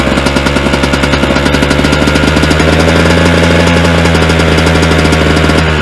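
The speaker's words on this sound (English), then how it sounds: "She should idle real nice now because I pulled that jet out and cleaned that up." A motorcycle engine with a freshly cleaned carburetor jet idles close by, with a loud, steady rapid chugging and a slight change in tone partway through. No one speaks.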